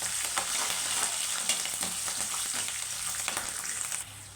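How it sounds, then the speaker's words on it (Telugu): Green chilies fry in hot oil as tempering for lemon rice, a steady fine sizzle with soft crackles and pops that stays even, then eases slightly toward the end. No one speaks. "పచ్చిమిరపకాయ కూడా బాగా వేగుతుందండి."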